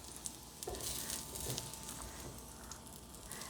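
An egg fries in a small pan, giving a soft, steady sizzle with faint crackles and pops, quiet and close throughout.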